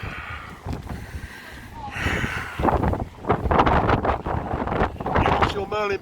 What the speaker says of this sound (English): Sammy, is it windy up here?